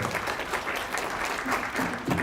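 An audience at a San Francisco demo night applauds a presenter, with dense steady clapping filling the room throughout.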